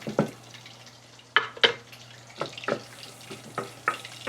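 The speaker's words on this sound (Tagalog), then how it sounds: "Lutuin natin yung butter." Butter melting in a pan for a mushroom gravy, giving soft intermittent sizzles and light scraping clicks, quiet and close with no talk.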